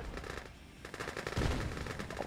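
Gunfire in the Red Alert 2 video game sounds as rapid machine-gun bursts, dense and fairly loud throughout, with heavier shots in the middle.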